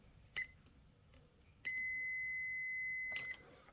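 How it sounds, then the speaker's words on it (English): A multimeter in continuity mode gives a brief chirp followed by a steady tone of more than a second, with a short blip at the end, all faint against a quiet background. "If we hear a beep, we're good."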